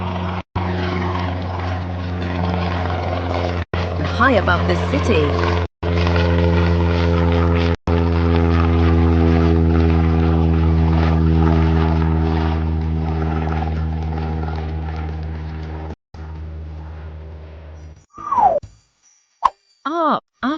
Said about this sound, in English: Let's fly in an airplane.